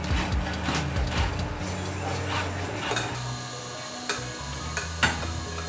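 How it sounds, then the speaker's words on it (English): A spoon stirs a thickening vegan sauce in a pan on the stove, giving soft scraping strokes and a light sizzle, with occasional clinks of utensil against pan, close and steady. "go ahead, sister, and stir that up"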